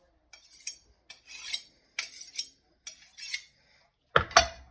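A knife is drawn along a honing steel in five quick, distinct metallic swipes with short pauses between, close and clear, the last stroke ending in a sharper ringing clank.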